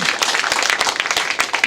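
Attendees at a forum applaud a culture and sports department director, a brief burst of lively clapping from a nearby crowd, loud and dense with scattered sharper claps.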